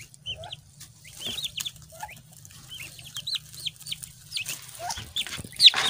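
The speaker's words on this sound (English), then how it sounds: "These are turkey chicks." Turkey chicks on a small Nigerian turkey farm, high thin chirps and peeps repeating irregularly from several birds nearby, over a low steady background hum.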